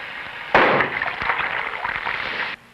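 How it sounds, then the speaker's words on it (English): Metallic sodium detonates in water: a sudden loud burst followed by a couple of seconds of violent hissing, crackling and splashing that cuts off abruptly. "Metallic sodium, which detonates when mixed with water."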